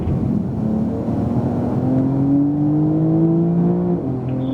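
A Porsche 911 Turbo S accelerates hard on a race track, its engine note climbing steadily in pitch through the gears, loud and close throughout with no speech.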